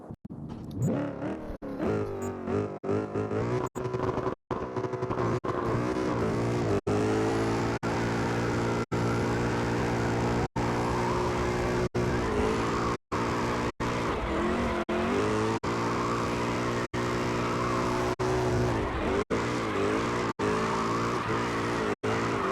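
A Mustang drifts in tandem in CarX, its engine roaring loud and near with rising and falling revs, rhythmic gear shifts and squealing tires running almost without a break.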